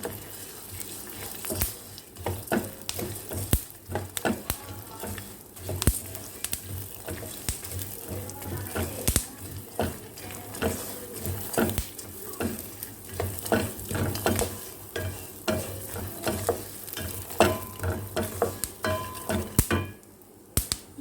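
Four melon seeds roast in ghee in a pan, stirred with repeated scraping and clinking strokes over a soft, steady sizzle, close and fairly quiet throughout.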